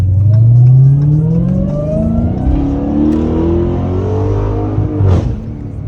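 Dodge Hellcat accelerating hard on a city street. Its engine note climbs loud and close as the power kicks in, then a second rising pull follows near the end, with no talking.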